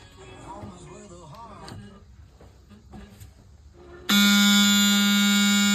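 A boat's oil pressure warning alarm sounds before the engine is started, a loud steady electronic tone that begins abruptly partway through and holds continuously, after quieter background sounds with some talking.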